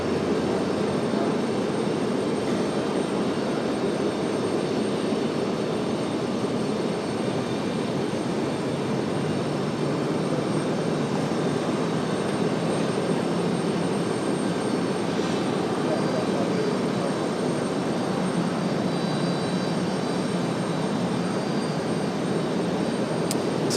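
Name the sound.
American Airlines A321 jet departing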